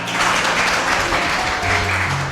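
Brief, close applause from a small group, a busy patter of hand claps with a low hum underneath.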